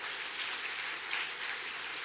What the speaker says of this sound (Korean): 잠깐 일어나시면 우리가 박수로 환영을 하도록 하겠습니다